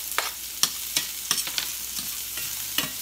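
Garlic hits a hot pan for Mongolian beef, giving a soft, steady sizzle with sharp crackles and utensil taps at irregular intervals, fairly quiet and close, with no talking.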